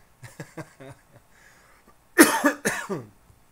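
Harsh coughing fits from a person who can't stop coughing: a few short, weak coughs early on, then a loud burst of two or three heavy coughs close to the mic.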